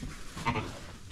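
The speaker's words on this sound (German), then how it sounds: "Das ist voll das schwarze Schaf." A lamb or sheep on a farm with newborn lambs gives a single short, nearby bleat in the middle of a brief stretch of outdoor background sound.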